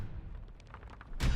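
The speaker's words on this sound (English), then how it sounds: "The entire cavern shakes with the sound of rockfall." Rocks come down in a mine collapse in the Scarlet Hollow video game: soft scattered knocks, then a sudden heavy rumbling thud that swells loudly at the very end.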